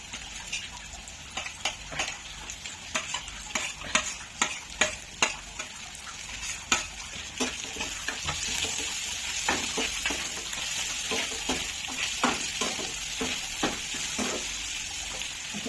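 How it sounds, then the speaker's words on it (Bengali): Cashews and raisins added to reddened onions frying in oil for an egg curry, a continuous close sizzle with rapid spatula scrapes and stirring knocks against the pan, no voices. "এবার আমি এর সঙ্গে কাজু কিশমিশটাও দিয়ে দেবো"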